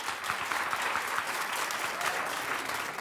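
Studio audience on a daytime talk show clapping steadily and loudly throughout, a dense, sustained round of applause with no speech over it.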